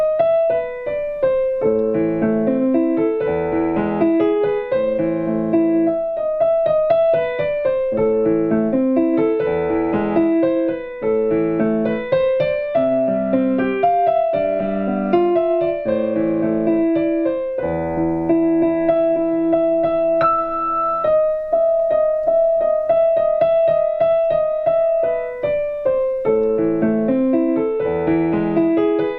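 Solo piano plays a clear minor-key melody over steady chords, continuing for nearly half a minute with no voices.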